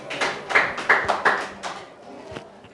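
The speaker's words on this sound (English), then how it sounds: "can you clap hands for Vanessa?" A class claps hands for Vanessa during a maths lesson: a short, loose run of about half a dozen clapping bursts, fairly close, thinning out toward the end.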